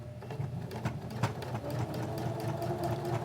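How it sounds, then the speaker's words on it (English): A sewing machine runs steadily while back stitching across elastic on a pocket pen holder, a close, continuous motor hum with a fast, even needle clatter and no talk. "we're going to back stitch across that elastic to secure it really well"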